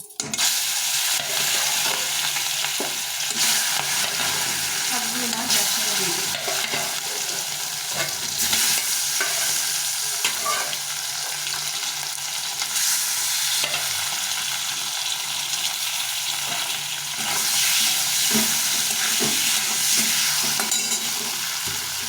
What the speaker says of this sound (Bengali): সর্ষের তেলেই মাছটা ভাজা ভেজে নেব